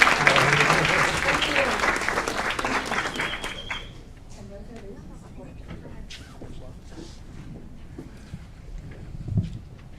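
At a city council meeting, the room applauds the ITO with dense clapping that tapers off after about four seconds, leaving room noise and voices underneath.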